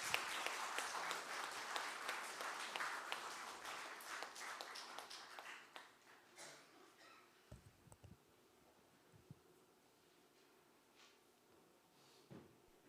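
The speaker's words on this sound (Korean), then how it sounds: "다시 한번 합창해 주신 합창단원분들께 큰 박수 부탁드리겠습니다" An audience applauds a choir at a farewell service in a Seoul temple, loud dense clapping for roughly five seconds that thins into scattered claps and faint knocks as the hall settles.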